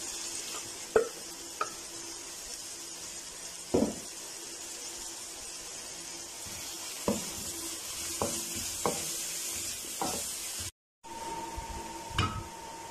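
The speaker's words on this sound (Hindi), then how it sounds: "हमारा ऑयल गर्म हो चुका है, तो जहाँ हमने प्याज चॉप किया हुआ है वो डाल देंगे।" Chopped onions sizzle in hot used cooking oil in a kadhai for kaleji masala, a continuous hiss punctuated by scattered clacks and scrapes of a spoon stirring against the metal.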